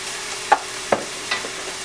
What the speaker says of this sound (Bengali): এখন এটার সাথে আমি আদা আর রসুন পেস্টটা দিয়ে দিব।